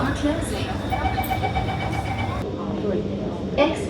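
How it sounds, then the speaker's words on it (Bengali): Steady rumbling of a moving Singapore city metro train carriage fills the clip, with a person speaking over the continuous rolling noise. "এখানকার ট্রেন ধরলাম অনেকটা মেট্রোর মতো সিটি ট্রেন"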